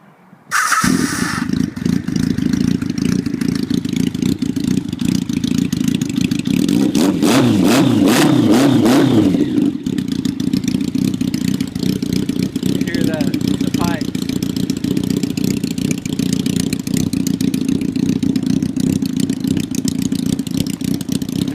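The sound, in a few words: motorcycle engine starting and revving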